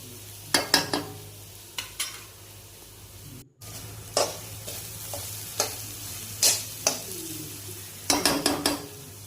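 Okra with turmeric and green chilli paste stirred in a hot, sizzling pan, with a steady fry hiss under repeated scraping strokes of a spoon against the pan, close and clear with no voices.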